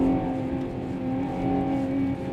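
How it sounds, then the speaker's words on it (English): Ferrari Purosangue V12 engine revving, a deep, smooth, sustained drone with a steady tone that swells slightly and heard up close without talk. "It sounds phenomenal. The V12."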